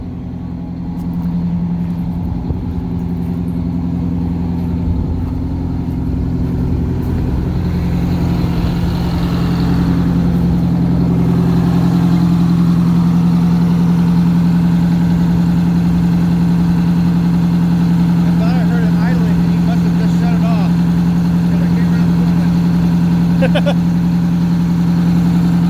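A Mack MC8 truck engine idles steadily and close by, a loud, smooth low hum holding throughout with faint voices briefly in the background.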